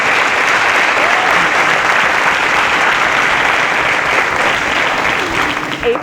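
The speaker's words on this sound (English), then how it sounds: "round of applause for Aminu" Steady, loud audience applause fills a quiz show studio for contestant Aminu, a dense wash of clapping that holds evenly before tapering slightly at the end.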